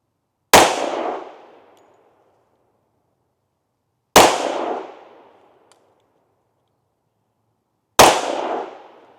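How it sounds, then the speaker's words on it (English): Three single 10mm pistol shots firing 135 grain Underwood JHP ammunition, each a sharp loud crack with a quick fading tail, evenly spaced about four seconds apart with near silence between. "Let's shoot it with our pistol and see how we do with a little bit of accuracy."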